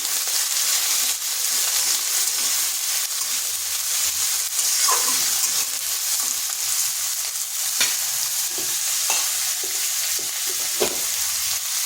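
Dried red chili and long-sliced onion fry in hot oil with a steady, close sizzle, while scattered scrapes and taps of a stirring spoon break through now and then.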